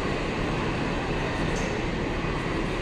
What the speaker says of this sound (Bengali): Joy Hind airport metro.